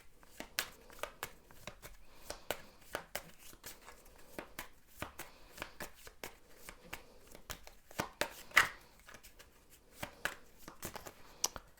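Rapid riffling and flicking of tarot cards, repeated in short bursts with soft papery slaps, close and fairly quiet, with no talking.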